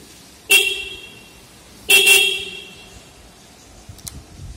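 A Honda Hornet 160R ABS motorcycle fitted with a hydraulic horn honks from its left-side button. Two loud, close, shrill blasts are spaced about a second and a half apart, followed by faint handling noises.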